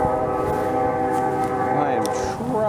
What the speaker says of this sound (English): The train going in the background.